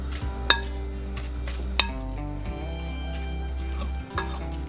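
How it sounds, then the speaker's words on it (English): Drained canned salmon being mashed in a bowl for parmesan salmon cakes, with a few sharp utensil clinks against the dish over a steady low background hum. "now we're just going to mince, you know, mash down the salmon"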